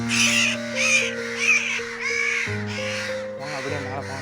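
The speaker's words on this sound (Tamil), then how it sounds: "அந்த காக்காவை தொடும்போது அது எப்படி கத்துச்சு" Loud, harsh caws from an injured young crow repeat in quick succession as it is handled close by, over a steady background hum and some voices.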